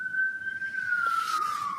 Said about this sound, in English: We always got the sirens going.